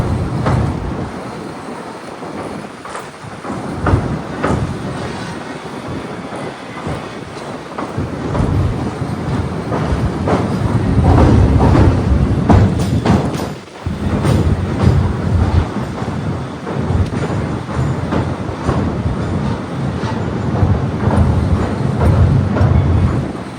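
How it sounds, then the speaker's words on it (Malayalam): A passenger train, the Amritha Express, rolls across Pamban Bridge near Rameshwaram, its loud steady rumble and rhythmic wheel clatter filling the whole stretch, with one brief dip partway through and no voices. "പാലത്തിൽ ട്രെയിൻ പോകുന്ന കാണാൻ"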